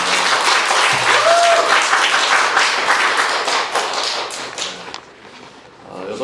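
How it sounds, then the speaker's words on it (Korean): A congregation at a Korean church women's mission devotional service claps as the pastor comes up, a dense, loud burst of many hands that lasts several seconds before thinning and fading out. "목사님 올라올 때도 박수 치는 거예요"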